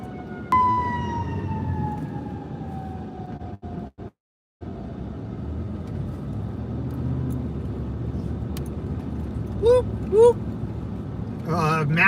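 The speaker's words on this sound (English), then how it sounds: "We got a fire truck." A fire truck siren wails somewhere out on the street, its tone sweeping and fading as it moves past, with traffic rumble beneath and short whooping siren bursts near the end; people talk intermittently.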